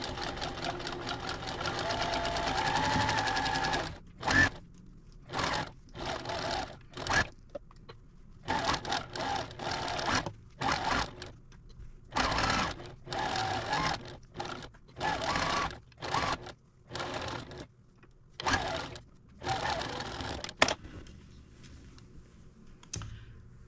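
A sewing machine stitches a Thanksgiving table runner in bursts of rapid mechanical clatter, starting and stopping repeatedly with short pauses and soft clicks between runs, close and fairly loud.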